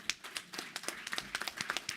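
An audience claps at a National Action Network convention, a soft, quick patter of many hands with no voices over it.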